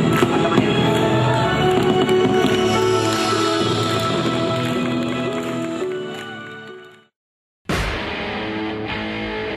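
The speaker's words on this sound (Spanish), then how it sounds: "Explota los fuegos artificiales y explota nuestro corazón." Fireworks exploding as a steady loud crackling rumble that fades out, cuts to brief silence, then abruptly resumes.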